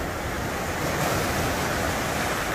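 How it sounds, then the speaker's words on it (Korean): Winter sea waves break on a beach at Yangyang on Korea's east coast, a loud, close, continuous roar of surf with a slight swell in the middle and no voices. "근데 파도는 많이 치는데 바람은 별로 불지 않네요."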